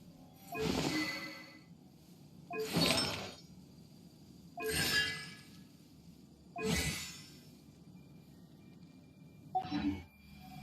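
Five sharp glassy shattering bursts in Genshin Impact's illusion-shatter effect, evenly spaced about two seconds apart, each a bright crash with tinkling shards, the last one softer and doubled, with no talk.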